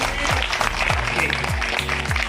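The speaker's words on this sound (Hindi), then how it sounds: "जी एक बार ताली बजा दीजिए" Guests at a church wedding clap together, a busy crackle of hands layered over regular deep thumping beats that repeat roughly every half second.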